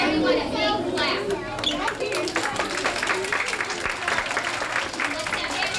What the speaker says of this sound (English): Give everyone a big clap.